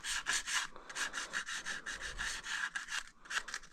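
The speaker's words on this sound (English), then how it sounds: "the sandpaper is just helping me just kind of drag that stuff off" Sandpaper scrubbing a thin film of old gasket material off a 1975 Honda XL250 motorcycle engine surface, a close, steady series of quick back-and-forth rasping strokes with short pauses between bursts, no talking.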